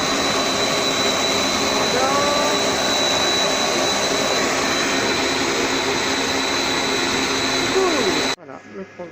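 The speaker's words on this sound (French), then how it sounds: "Là, ça mixe." A Compact Cook Elite multicooker blends broccoli and vegetable soup with a loud, steady motor whine that runs continuously for about eight seconds before cutting off abruptly, with faint voices in the background.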